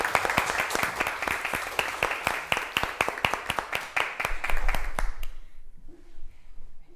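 Children in a one-room schoolhouse clap together in a brisk, steady burst of applause for about five seconds, then the clapping stops abruptly, leaving near silence with a faint low rumble.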